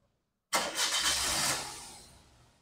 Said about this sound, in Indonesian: Kita langsung nyalain aja. Kita dengerin suara mesinnya.